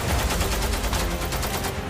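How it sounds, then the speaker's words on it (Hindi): Sustained rapid gunfire during fighting in Balochistan, a dense rattle of bursts and shots that stays loud and continuous throughout, with no talking. "बमबारी, फायरिंग और धमाकों की आवाज से एक बार फिर बलूचिस्तान दहल उठा।"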